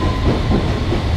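A London Underground tube train runs loudly, a dense, continuous rumble and rattle with steady wheel clatter close by, filling the short stretch without pause.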